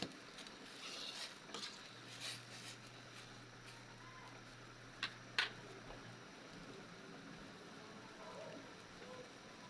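A spoon stirs pochero stew in a cooking pot, with quiet scraping and soft bubbling under a low kitchen hum and a couple of sharp clinks against the pot midway.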